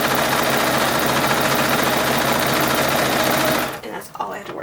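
A sewing machine runs steadily and loudly up close, stitching cotton pieces of an 1882-style bodice in a continuous rapid whir before stopping abruptly, followed by faint handling noise.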